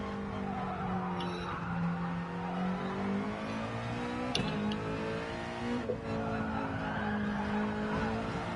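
Race car engine in Gran Turismo Sport at Spa, a steady droning note rising and falling through corners with tire squeal and brief gearshift blips, held at moderate loudness without talk.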